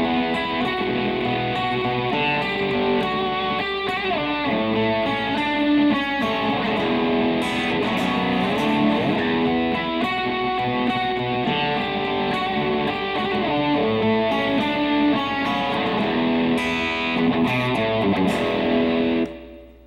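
Electric guitar riff from a song, played with a distorted tone over a full band backing, dense and steady throughout, sustained loud chords and rhythmic accents ending abruptly.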